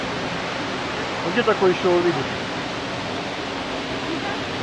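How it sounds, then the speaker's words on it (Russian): A waterfall in Dalat, Vietnam gives a steady, full rush of falling water from start to finish, with a person speaking briefly over it near the middle. "Вот водопад, тебе нравится, красивый?"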